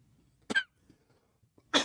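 Two sharp coughs from a sports broadcast host, one short burst and then a second about a second later, close and fairly loud in an otherwise quiet room.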